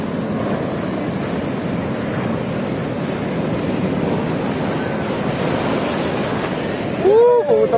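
Sea waves at a Pangasinan beach, a loud steady wash of surf with wind buffeting the microphone throughout and a brief louder burst at the end.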